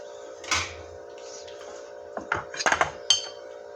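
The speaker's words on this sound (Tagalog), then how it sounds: "Haluin nyo lang ng haluin ito guys" A utensil stirs a thick mixture in a pot, giving a few soft scrapes and a cluster of sharp metallic clinks and knocks. A steady low hum runs underneath in an otherwise quiet kitchen.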